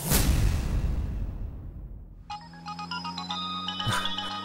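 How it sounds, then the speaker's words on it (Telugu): A mobile phone rings with an incoming call in a Telugu TV serial scene: after a fading whoosh, a bright electronic ringtone plays a repeating melodic pattern of tones, clear and close, with no talk. "ఇదిగో పార్వతి కాల్ చేస్తుంది."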